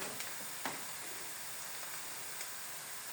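Spinach, onion and garlic sauté in a pan with a steady, even sizzle and hiss, soft and close, with a few faint clicks and no talking.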